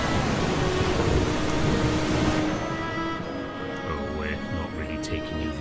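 Heavy rain and a rolling thunderstorm in the video game Eastshade, loud and dense at first, then easing into steady rainfall with faint background tones.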